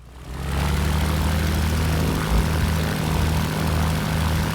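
Junkers F13 vintage propeller plane in a flight simulator roaring at full takeoff power, a loud steady droning engine and prop wash that swells in within the first half second and holds constant throughout.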